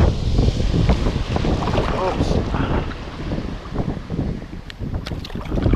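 A wave slaps against a small fishing boat out on shallow water during ultralight fishing, a loud wash and splash under heavy wind buffeting the microphone, with voices speaking briefly nearby.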